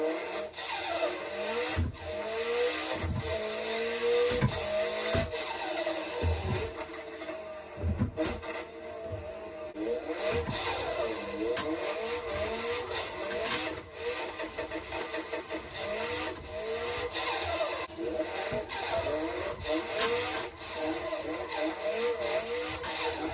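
Turbo flutter chatters from a boosted car in Assetto Corsa during a drifting session on a Thrustmaster TX sim rig, rapid repeated fluttering bursts over steady engine drone, with someone talking throughout.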